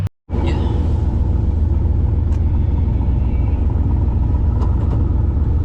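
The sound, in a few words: Plymouth Valiant car driving a lap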